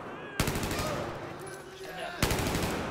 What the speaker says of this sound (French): c'est une arme en rafale